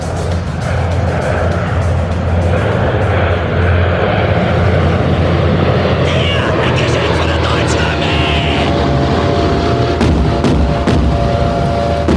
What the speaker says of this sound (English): a B-17 bomber flew over his head, very low to the ground